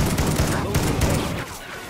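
Rapid gunfire in a first-person shooter Domination match, a dense burst of shots with game noise and talk mixed in, easing off near the end.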